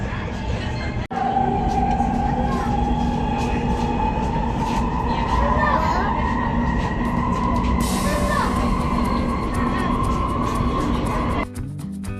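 Interior of a Riyadh Metro train in motion, a steady loud rumble with a rising electric motor whine and rattling carriage noise, ending with a brief clatter.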